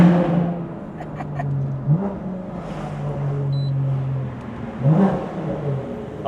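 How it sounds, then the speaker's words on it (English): BMW S55 engine fitted with catless resonated downpipes and equal length midpipe, rising and dropping in pitch through quick downshifts with blips and crackles, heard from inside the car under steady road noise. "those downshifts are nice"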